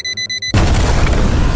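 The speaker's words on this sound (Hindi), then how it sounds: "ब्लास्ट इतना तेज था" A loud cartoon blast erupts right after a short repeating alarm beeps, filling the sound with a sustained, roaring explosion and rumble that continues to the end.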